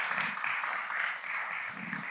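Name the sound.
applause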